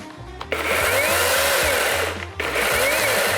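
A Procraft cordless battery chainsaw (PKA-38, PKA-40Li or PCA-40/2 model) whirs up to a steady high-pitched drone, cuts out briefly, then spins up again.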